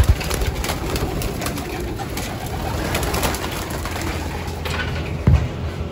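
Pigeons being let out through the release door of a racing pigeon loft, with continuous cooing and soft wing flutter close by and a brief louder burst near the end.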